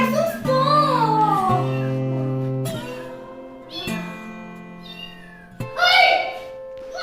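A cat meows in several drawn-out, wavering calls separated by short gaps, close and fairly loud, the last call rising sharper and more strained.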